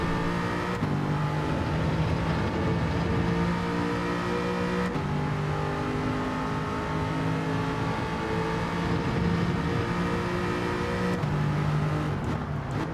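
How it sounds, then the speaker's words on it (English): Race car in Gran Turismo 7 engine braking through a corner, a steady droning engine note with layered harmonics shifting in pitch as it slows, loud and continuous without talk. "And again, engine braking, or in the real world, braking your engine."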